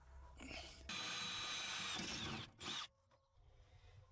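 A power drill runs in a steady high whine for about two seconds drilling into a truck bed, then a brief second burst, with quiet handling afterward.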